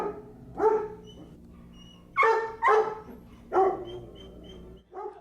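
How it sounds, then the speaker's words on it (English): Several dogs bark in bursts at the Nebraska Humane Society shelter, with about four loud, close barks over a quiet room background. "there are dozens of strays and lost dogs barking and lonely for affection at the Nebraska Humane Society"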